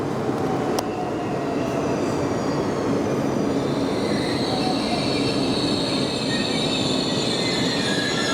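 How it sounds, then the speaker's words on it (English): Intercity New Generation train pulling into Rotterdam station in the Netherlands, with loud steady rumble of wheels on rails and high metallic squeal as it slows, close by and continuous. "The train pulling in behind me is one of the intercity new generations"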